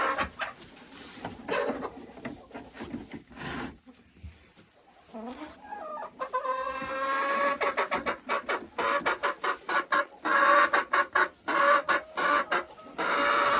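Hens cluck inside a chicken coop with nesting boxes, a busy run of short, repeated calls rising in strength toward the end, mixed with some low talk.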